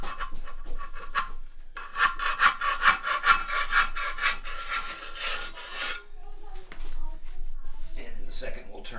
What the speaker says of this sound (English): I'm going to take a putty knife.